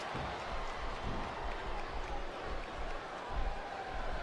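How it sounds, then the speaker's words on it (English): A virtual arena crowd in the wrestling video game WWE SmackDown vs Raw 2007 keeps up a continuous, fairly quiet roar of cheering with no commentary over it. "Listen to the crowd, JR."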